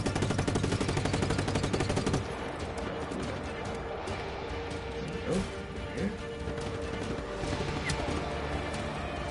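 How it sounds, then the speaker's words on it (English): Dense, rapid gunfire rattles nonstop in Just Cause 3 while the player rides a zipline, a loud continuous barrage of shots with crashes and impacts mixed in. "Shooting guys while you're ziplining at them is great."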